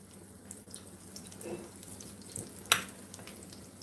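A salmon patty made with green onions, cornmeal and flour fries in hot oil, giving a soft continuous sizzle with scattered crackles and one sharp bright pop near the end.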